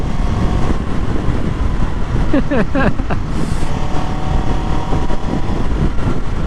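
A 2024 Kawasaki Ninja 7 Hybrid ABS motorcycle hums steadily while riding, its engine drone blended with heavy wind rush, and a brief rising whine as it shifts midway, loud and close throughout.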